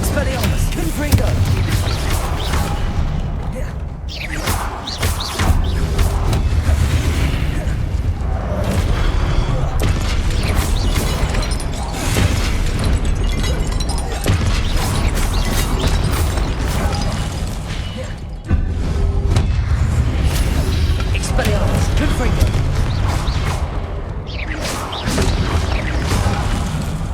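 Spell-casting explosions erupt in a video game boss fight, a dense, continuous barrage of loud booms, blasts and crackling impacts lasting throughout, with a voice speaking at times beneath the din.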